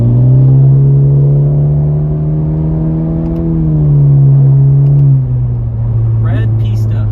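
A Ferrari 488 Pista accelerates nearby, its loud, steady engine drone holding pitch and then shifting down slightly as it pulls away. A voice speaks briefly near the end.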